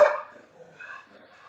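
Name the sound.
dog barking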